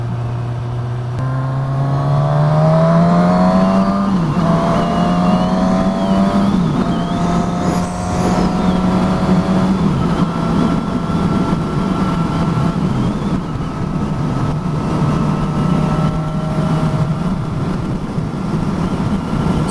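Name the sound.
Suzuki Katana motorcycle riding at motorway speed with wind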